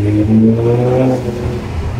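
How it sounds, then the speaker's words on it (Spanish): A car engine revs up loudly nearby in a tunnel, its tone rising, then drops back as the throttle closes, leaving a lower, steadier drone; no blow-off hiss stands out clearly and no one speaks. "¿Y qué me dicen de la válvula de alivio del turbo?"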